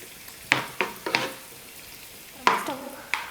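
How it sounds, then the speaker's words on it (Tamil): Cashews and raisins fry in ghee for a semolina payasam, a soft sizzle broken by several sharp metallic clinks and scrapes of a spoon stirring in the pan, close up, with no talking. "முந்திரி ஓரளவுக்கு வறுபட்டதும் திராட்சை கொஞ்சம் எடுத்து வச்சுருக்க அதை சேர்த்துக்கிறேன்"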